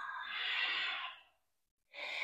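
A long, audible exhale during a power vinyasa yoga sequence, a close breathy rush that fades to silence before a second breath starts near the end, with no talking over it.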